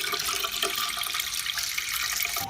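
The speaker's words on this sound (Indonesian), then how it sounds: "Mas Bagas mendengar suara keran air berbunyi" Water running steadily from a tap in a workers' dormitory at night, a continuous hissing stream that ends abruptly at the end, with no voices.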